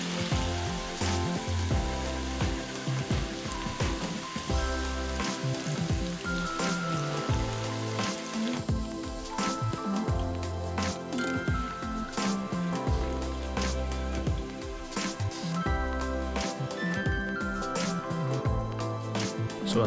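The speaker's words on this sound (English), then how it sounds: "So you throw your wontons into the fryer and then you just give it a few seconds until you flip them over." Wontons deep frying in a home fryer of hot oil, a dense, steady crackle and sizzle with scattered pops and spatters throughout, close and fairly loud, with no talk.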